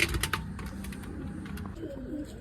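Pigeons cooing at a rooftop coop, low soft coos rolling through at moderate distance, joined by a few sharp clicks and taps early on, with no speech.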